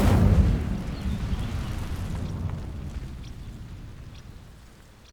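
A fire spell bursts into flame on dry vines in Hogwarts Legacy, a loud whooshing ignition up front that settles into a steady crackling burn and slowly fades away.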